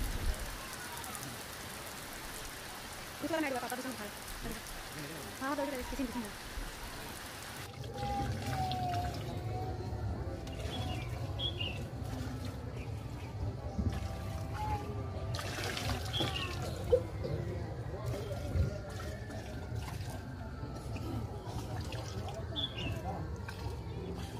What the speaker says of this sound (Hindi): जब एक राउंड हो जाता है तब हम लोग जल डालते हैं